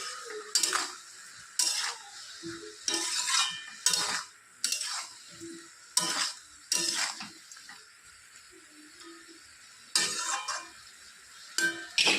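A spoon stirs sugar into spinach cooking in a pot, giving repeated clinks and scrapes against the metal in irregular bursts, with quiet gaps in between.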